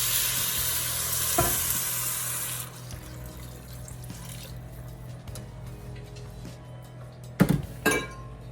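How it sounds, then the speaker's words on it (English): Rice sizzles in a Dutch oven for arroz con pollo, a loud hiss that drops off after a few seconds. A steady low simmer follows, broken by a couple of clinking scrapes of a spoon stirring against the pot. "And I'm going to just give this a stir."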